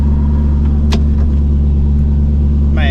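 A BMW E46 drift car's engine rumbles steadily and close by as the car drives, a deep constant drone with a faint chirp near the end.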